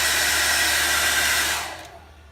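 Hair blow dryer powered by a generator, a steady whooshing fan and air roar close by that holds evenly, then winds down and fades out as it is switched off.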